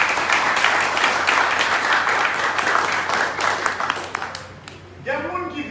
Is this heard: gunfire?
no